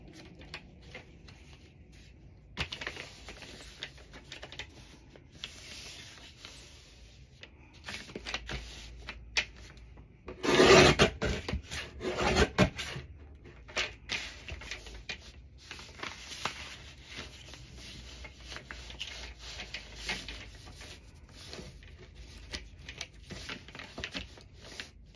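A paper trimmer slices through a sheet of paper bag being cut down to 12 inches, a brief loud cutting burst near the middle amid quieter handling and rustling of paper.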